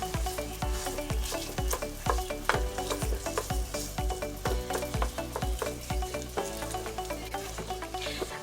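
Eggplant frying in oil for a vegan eggplant parmigiana, with a steady loud sizzle broken by rhythmic scraping and stirring strokes of a utensil in the pan, close and continuous.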